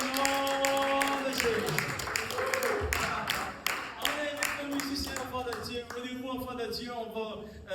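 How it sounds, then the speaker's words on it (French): A church congregation claps steadily in rhythm for the Lord, many hands together, while a voice speaks or sings over the applause throughout. "donnons une bonne main d'applaudissement au Seigneur"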